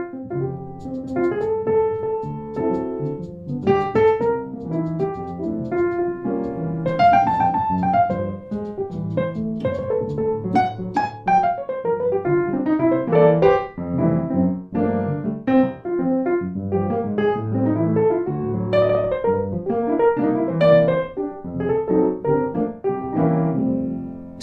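A Spitfire Jangle Box piano on the non-tacked Mellow patch, captured through room mics, plays a continuous melodic passage with chords and runs and a roomy, slightly distant tone, with no talking.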